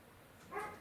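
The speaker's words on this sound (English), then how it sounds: "I don't know if you can hear Neo barking outside." A dog barks faintly outside in the distance, a short muffled burst after a moment of quiet room tone.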